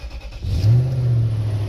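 A first-generation Toyota Tundra running on its stock exhaust: a quiet idle, then a rev that swells into a smooth, steady low drone, close and alone.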